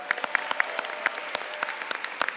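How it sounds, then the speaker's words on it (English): Audience at a school spelling bee claps for the round's contestants, a steady patter of many hands with sharp individual claps standing out, fairly close and lively. "everyone in this round deserves another round of applause"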